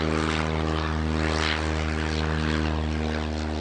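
A sport plane's propeller engine runs at full throttle on a go-around at Lelystad Airport, a loud, steady drone with strong harmonic bands that holds close and even throughout.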